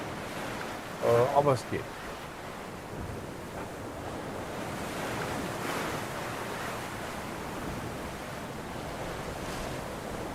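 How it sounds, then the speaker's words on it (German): Open-sea sailing in roughly 15-knot wind with relatively high waves, steady rushing wind and surf noise throughout, a brief louder splash early on, with someone speaking briefly. "Die Wellen sind verhältnismäßig hoch,"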